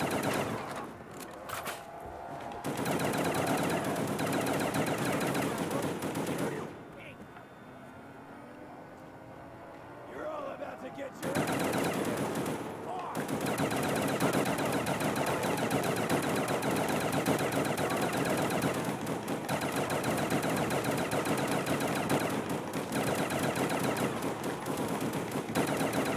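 Machine gun fire in a zombie video game rattles in long, rapid, loud bursts, broken by a few seconds of near quiet before the firing resumes and keeps going.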